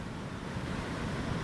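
Sea waves breaking on the beach at Laayoune, Morocco, a dense continuous roar of surf with wind noise, loud and unbroken, no voices.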